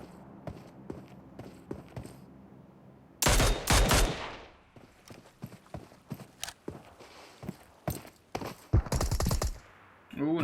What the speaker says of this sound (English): Ooh, nice shots being fired.